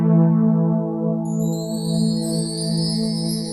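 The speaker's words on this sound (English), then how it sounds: "The sounds you're hearing are electric violins." Electric violins playing a folk jazz title track, with sustained bowed tones and layered high harmonics entering partway through, steady and alone with no voices.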